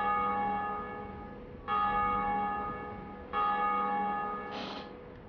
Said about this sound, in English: Who does the bell toll for?